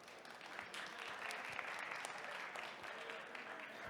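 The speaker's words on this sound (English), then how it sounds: "Another applause, applause, applause, applause" Audience applause at a startup pitch competition final, a dense, even wash of clapping from a large crowd sustained throughout, fairly distant and soft in level.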